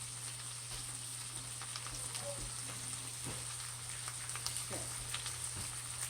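A stir fry cooks in Food Line vegetable oil, giving a soft, steady sizzle with a few scattered ticks and pops over a constant low hum.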